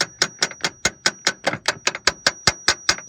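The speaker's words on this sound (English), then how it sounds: "And then you're just going to take your tiny little hammer." A small hammer taps a stuck spark plug and coil pack with medium-to-light blows: about fourteen crisp, close metallic knocks in a steady, even rhythm, with no talking.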